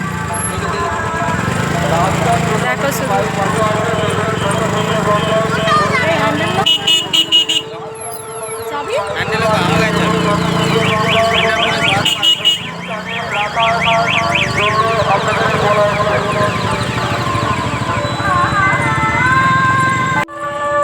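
Motorbikes crawling in a heavy traffic jam, engines droning nearby with repeated horn toots and honks, while people talk over the noise.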